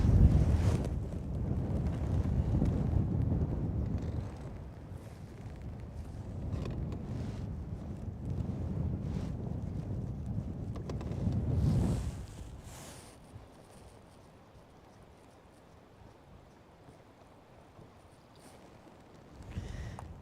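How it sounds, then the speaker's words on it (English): Strong wind buffets a fishing boat on the water, a loud rushing roar battering the microphone in long gusts that ease into a quieter stretch before rising again. "I don't know if that wind is being funneled into here, but it is getting faster."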